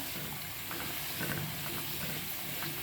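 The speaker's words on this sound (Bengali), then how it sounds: "এটা আমি আস্তে আস্তে নাড়াচাড়া দিচ্ছি" Cow's milk simmers in a pot while being stirred slowly to make ghee, giving a soft continuous bubbling sizzle with faint scraping and stirring touches, steady and close, with no talk.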